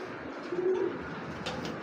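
A soft, brief coo from a Johnson breed pigeon in light molt, faint and low, over a quiet background hum.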